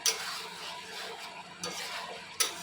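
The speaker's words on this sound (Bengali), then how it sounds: "চিকেনের সাথে মশলাটা একবারে মিশিয়ে আমরা মশলাটা ফ্রাই করে নিচ্ছি মাঝে মাঝে একটু মশলাটা নেড়ে দিতে হবে" Chicken and spice masala fry in a pan, giving a steady, fairly quiet sizzle broken by a few sharp spoon scrapes and clinks as the mixture is stirred.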